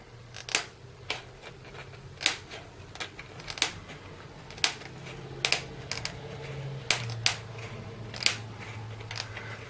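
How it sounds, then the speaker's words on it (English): A blade slowly cutting open a hard plastic comic book slab, a series of sharp crisp clicks and snaps spaced irregularly over steady low room hum, with no talk. "So we just start cutting it. Very slow, very careful."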